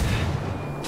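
A short, booming burst of gunfire in the tactical shooter Ghost Recon Wildlands, heavy low-end report that rings out and fades over under a second.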